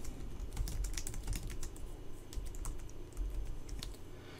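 Steady typing on a computer keyboard while editing a WordPress page, a run of quick, close keystroke clicks in uneven bursts with no talk.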